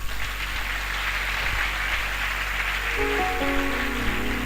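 A congregation at a French-language church service claps to acclaim Jesus, a steady wash of many hands that continues evenly throughout, with faint tones surfacing near the end.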